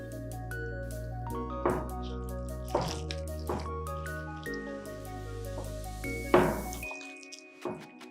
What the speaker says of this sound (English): Then gradually pour water and mix everything together.